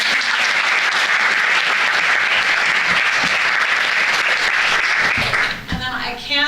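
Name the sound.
audience applause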